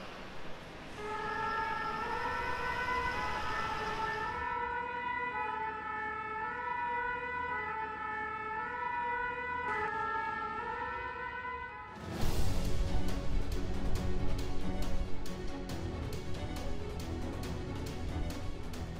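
A fire brigade emergency siren in Bastogne, Belgium, holds steady wailing tones for several seconds, pauses, resumes, then gives way to a louder, harsher blaring siren and traffic noise.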